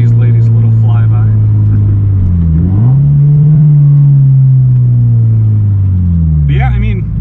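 A lowered Toyota GT86 on coilovers drives past close by, its engine a loud steady drone that rises and falls in pitch as it passes, with a brief shift of tone midway.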